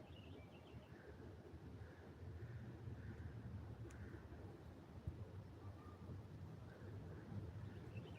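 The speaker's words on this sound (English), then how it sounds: "You can just hear the wind, hear the birds." Wind blows outdoors at a quiet rural homestead, a faint, steady low rush with gentle gusting and no talk.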